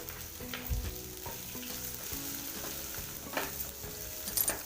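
Cumin seeds and chopped onion fry in a pan with a steady, close sizzle, broken by occasional stirring scrapes and light crackles.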